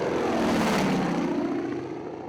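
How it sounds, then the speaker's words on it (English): A 1939 Harvard propeller plane drones loudly overhead in the Wairarapa, a steady rasping engine roar that swells and then eases slightly as it passes. "We recorded planes over in the Wairarapa, and that was with a 1939 Harvard."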